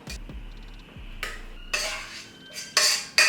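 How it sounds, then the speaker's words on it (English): Cooked rice emptied into a bowl on a food scale, with a few clanks and scrapes of a utensil against the bowl followed by bursts of rustling, spilling sound, close and fairly loud. "we're gonna empty out all the rice into the bowl"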